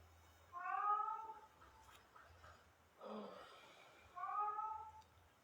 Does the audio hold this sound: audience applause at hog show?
no